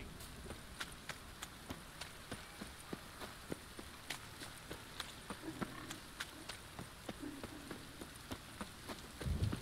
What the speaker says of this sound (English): I like rain.